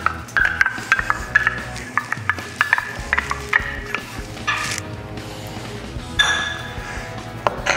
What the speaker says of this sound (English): So you're gonna put the canola oil, the sugar, the yogurt or the sour cream,